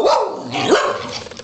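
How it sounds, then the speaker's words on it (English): A dog barks and yips loudly up close, a short run of sharp, excited barks. "Why did he bark way too loud?"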